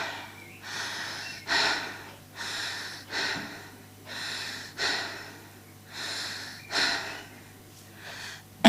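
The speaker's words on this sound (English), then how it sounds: "I'd like you to take a few short breaths" Several short, forceful breaths drawn into the chest during a guided breathing exercise, five or six airy bursts at a steady pace, each one close and clear over quiet room tone.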